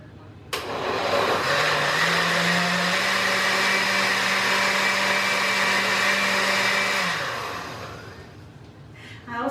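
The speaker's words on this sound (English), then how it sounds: "Okay, I'm gonna blend it up, get it all nice and liquidy." A kitchen blender blends hot salsa with water for about seven seconds, starting abruptly, holding a steady loud whir that shifts pitch partway through, then winding down as it is switched off.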